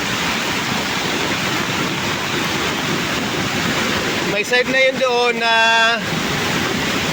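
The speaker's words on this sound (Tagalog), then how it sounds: "tumatawid na malakas ang tubig. Yung parang falls lang yan" Strong floodwater rushes across a crossing like a waterfall, a loud, constant broadband roar heard close up; a person speaks briefly over it near the end.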